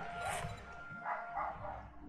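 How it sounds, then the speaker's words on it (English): Dogs bark and yip in short bursts at a moderate distance, set off by the neighbors' dogs and a tornado alarm test, the barks overlapping in an irregular rhythm. "See, my dogs just start barking because the neighbor's dogs are barking."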